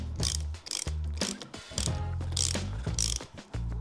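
A hand ratchet fitted with a 30mm socket tightens valve bolts on an Interpump pump, giving quick bursts of metallic clicking in a steady, close, stop-start rhythm.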